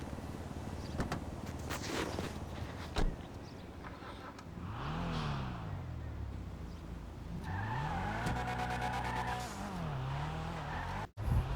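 An Annis Hardy car in GTA Online drives with a steady engine drone that rises and falls as it revs through gears, with brief tire squeal near the start and a sharp cut near the end, no talking.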